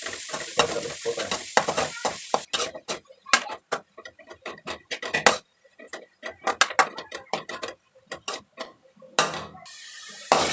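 Grated carrot is stirred in ghee in a pan for carrot halwa, giving a quick, rhythmic series of sharp scraping and tapping strokes over a light sizzle, with short pauses between bursts.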